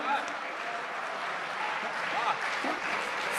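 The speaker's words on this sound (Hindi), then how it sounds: "ताली बजाओ यार, इतने आदमी हो।" Crowd at a Hindi comedy poetry show clapping, a continuous wash of applause through the whole stretch.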